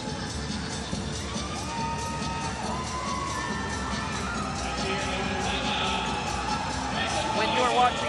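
Arena crowd at a women's club world championship volleyball match at Mall of Asia Arena, Manila, cheering and shouting steadily throughout, with whoops and voices mixed into a constant roar that swells toward the end.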